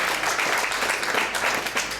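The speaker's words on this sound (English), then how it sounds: "Round of applause for Robert the Ghost Guerrero." An audience applauds at a boxing press conference for the Danny Garcia vs Robert Guerrero fight, dense continuous clapping filling the whole stretch.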